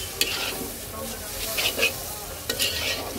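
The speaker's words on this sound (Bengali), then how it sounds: "এই জন্য মশলাটাকে তেলের মধ্যে সুন্দর করে একটু ভেজে নিতে হবে।" Turmeric and coriander powder fry in oil for a prawn and taro stolon dish, giving a close, busy sizzle with repeated scraping stirs and a few sharp clanks, and no voices.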